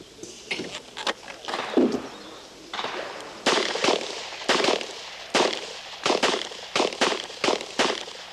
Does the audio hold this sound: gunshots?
yes